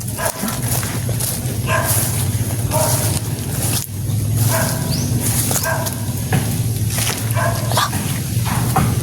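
Several dogs bark in repeated bursts outdoors, loud and close, over a steady low engine rumble that runs throughout.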